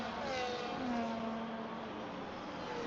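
Race cars at the Miami Grand Prix accelerating out of turn 17, a steady high engine whine with a pitch that sweeps downward as cars pass, held continuously at moderate distance with no talk.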